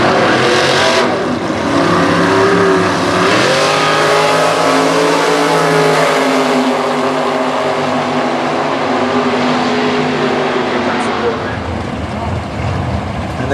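A Super Gas drag race car at Indy roars up from staging, its engine revving and climbing in pitch, loud and close, while a commentator talks over it.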